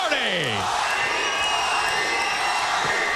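Arena crowd at an IMPACT Wrestling event roars steadily for Jeff Hardy, a dense wall of cheering and shouting that holds loud and unbroken throughout, with rising and falling tones sweeping through the opening second.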